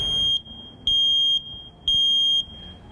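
A household smoke alarm gives three loud, shrill, sustained beeps at a steady rhythm, each about half a second long, with quiet gaps of low background noise between them.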